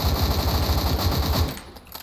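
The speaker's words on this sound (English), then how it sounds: "The gun's got pretty good recoil, like it's really controllable." Rapid automatic gunfire from a gun in the Roblox game Cold Front, a loud close burst of evenly spaced shots lasting about a second and a half before cutting off, with no talking.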